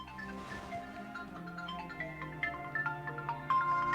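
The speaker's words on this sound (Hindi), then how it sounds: "देखिए फोन किसका बज रहा" A phone ringtone melody plays at moderate volume, with repeating tonal notes building slightly toward the end.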